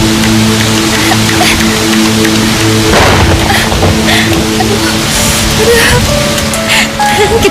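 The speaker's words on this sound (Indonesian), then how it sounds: "Hujan semakin lebat." Heavy rain pours steadily in a dense, loud wash of noise throughout, in an outdoor scene from an Indonesian TV film, with faint background sounds beneath.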